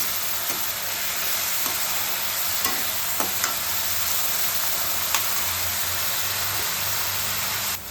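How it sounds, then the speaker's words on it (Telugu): Sliced onions frying in hot oil in a home kitchen pan, a steady loud sizzle with a few faint clinks of stirring, heard alone without speech. "ఆయిల్ వేడెక్కిన తర్వాత ఆనియన్స్ వేసుకుంటున్నానండి ఇప్పుడే బాగా వేగాలండి"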